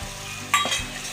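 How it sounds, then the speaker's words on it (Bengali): Sour yogurt drops into a hot, frying spice masala with prawns and pointed gourd, giving a brief burst of close sizzling and stirring over a steady low frying hiss. "এখন আমি দইটা দিয়ে দিচ্ছি, টক দই।"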